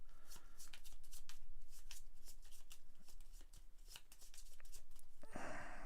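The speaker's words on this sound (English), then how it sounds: "All cards in the display and discard get shuffled together and put on top." Cards for the board game Warp's Edge being shuffled by hand: a rapid run of crisp riffling snaps and flutters, continuous for several seconds, ending in a brief rustle as the deck is squared.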